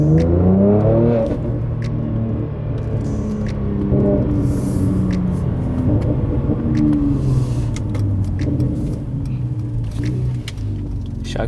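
A Mercedes-AMG C43 fitted with a GTR-style grille rumbles loudly while driving, its engine revving and building with a deep, continuous roar close to the cabin.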